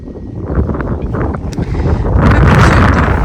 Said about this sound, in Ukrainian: Вітер вже у нас піднімається.